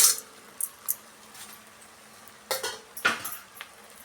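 Egg fried rice is mixed in a pan, with scattered metal scrapes and clinks of a spatula against cookware, a couple of sharper knocks near the end, close up with quiet gaps between.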